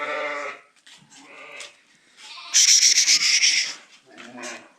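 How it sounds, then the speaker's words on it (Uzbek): Kyrgyz sheep bleat several times close by, with one louder, higher cry in the middle, while someone speaks quietly between the calls. "Mana shu ekiza qo'ylar bor."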